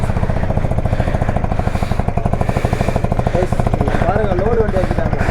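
Cold start of a motorcycle engine, a KTM Adv 390, Kawasaki KLX or KTM Duke 250, settling into a loud, steady rapid idle thump close by, with voices talking over it.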